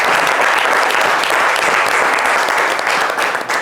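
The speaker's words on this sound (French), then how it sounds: "on peut les applaudir" Steady applause from a crowd welcoming players of a football team, dense and continuous clapping filling the whole stretch without pause.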